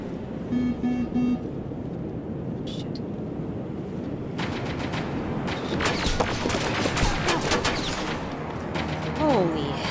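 Turret gunfire in Terminator: Resistance, dense loud bursts of shots and blasts layered over a busy game mix with electronic tones, continuing steadily throughout.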